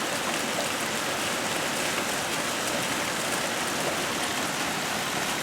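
Heavy rain pours down non-stop in a New England garden, a dense steady hiss of drops on surfaces, continuous and even with no voices.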